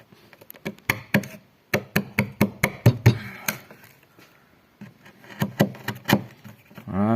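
A wood chisel pushed by the palm of the hand along the grain while cutting a notch for a marking-gauge arm, giving a series of sharp, close knocks and taps in quick bursts with short pauses between.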